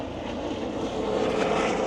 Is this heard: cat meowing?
no